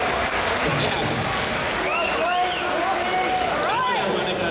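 An audience at a Dota 2 esports event at MLG Columbus 2013 claps steadily in a large hall, with crowd murmur and a commentator's voice over the applause.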